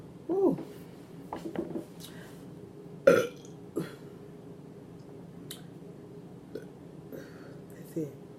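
Burps from a person eating loaded potatoes and chicken strips, several short separate belches scattered across a quiet room, one louder burst near the middle, with faint mouth noises between.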